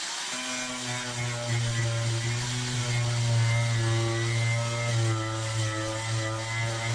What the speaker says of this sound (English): So you can see there all the stuff coming off the angle grinder.